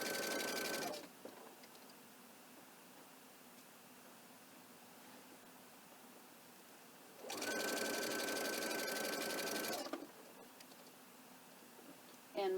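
A sewing machine stitches a faux piped binding in two loud bursts of steady, rapid whirring, each lasting about one to three seconds, separated by a long quiet stretch of low room hiss.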